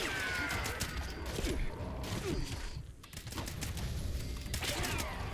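Enemy gunfire from the game Fallout 76 crackles in dense, overlapping bursts, a continuous rattle of shots with scattered mechanical clicks, loud and busy throughout.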